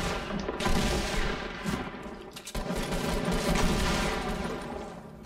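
In Fortnite, close, loud shotgun fire blasts repeatedly and overlaps with other gunfire, making a dense, continuous barrage with a brief dip midway.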